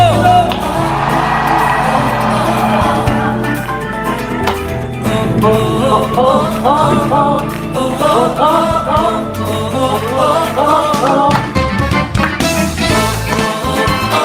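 A church congregation erupts in loud, overlapping whoops and joyful shouts, a sustained roar of cheering that swells and carries on.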